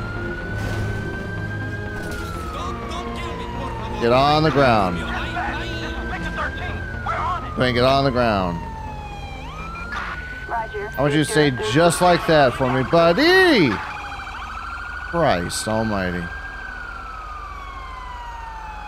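A police car siren wails in GTA V with the LSPDFR mod, rising and falling in long sweeps throughout while an officer shouts commands and other voices talk over it.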